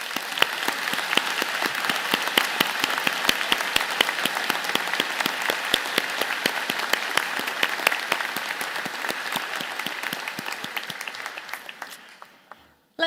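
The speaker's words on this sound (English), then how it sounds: "join me in the podium party in thanking them with a vigorous round of applause." Graduation ceremony audience applauding vigorously, a dense, sustained clapping that holds steady for several seconds and then tapers off and fades out near the end.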